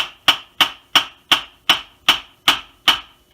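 A hammer taps a brake part eight times in an even rhythm, each strike a sharp, close metallic knock with a short ringing decay and silence between.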